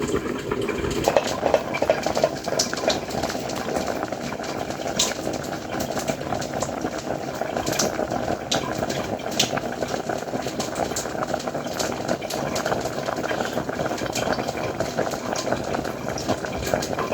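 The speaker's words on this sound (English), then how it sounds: "So we are still boiling." Beans simmer at a steady rolling boil in a single pot of water with rice, a continuous bubbling churn that holds close and even throughout with no voices over it.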